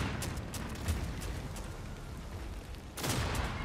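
Distant battle between tanks and mechs in The Forever Winter, a steady rumbling din of gunfire and heavy weapons with a louder burst of fire near the end.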